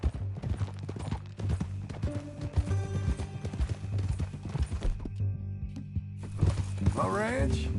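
Horse hooves clip-clop in Red Dead Redemption 2, a steady run of close, crisp hoofbeats under background music, with a whinny near the end.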